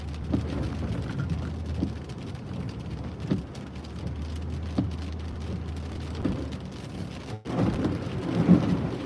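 Heavy rain and a thunderstorm along I-95 north of Boston: a steady loud roar of downpour with a low rumble underneath, sharp thunder cracks scattered throughout and a louder burst near the end.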